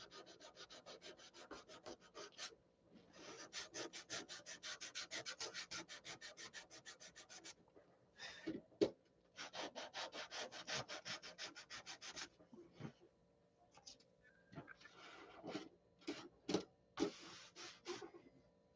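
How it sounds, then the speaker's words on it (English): Hand sanding of a surface ahead of paint touch-ups, a quiet series of rapid back-and-forth rasping strokes in bursts of several seconds, broken by pauses and a few sharp single scrapes. "This all needs to be sanded out."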